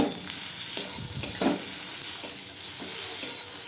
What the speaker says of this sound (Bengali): হলুদ দিয়ে একটু নেড়ে নেড়ে ভেজে নিচ্ছি